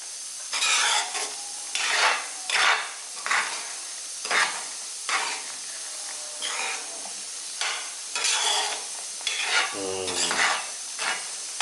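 Mushroom kurma gravy simmering in a pan while a spoon stirs it: repeated scraping strokes in irregular bursts over a soft bubbling hiss, close and fairly loud.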